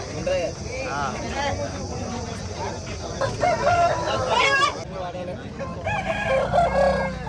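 An Aseel rooster of the Bhimavaram Mettavatam line, abrasu colour and about 24 inches tall, crows loudly at a busy Saturday livestock market in Mydukuru, with voices and crowd noise running underneath throughout.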